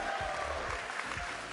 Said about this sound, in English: Do you have anything to say to the people here cheering your name, cheering for you guys